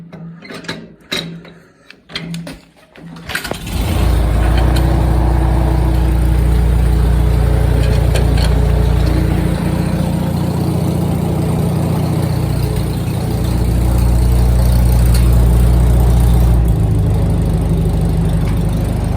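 Irregular clanks and knocks, then a 1949 McCormick Deering W4 tractor engine starts with its fuel off and settles into a loud, steady idle with a deep rhythmic chug.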